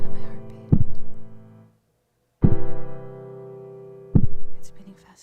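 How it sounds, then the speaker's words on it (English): A deep, heartbeat-like thump sounds three times at a slow, even pace. Each beat carries a low humming tone that fades before the next one, loud and close. "It's the sound of my heartbeat."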